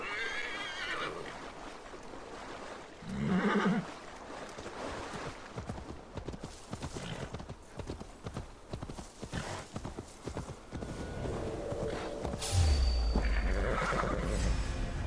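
A horse whinnies loudly as hooves clip-clop steadily throughout, with a rushing ambient background, in the video game Assassin's Creed Valhalla.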